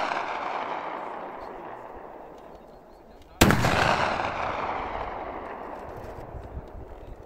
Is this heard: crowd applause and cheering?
no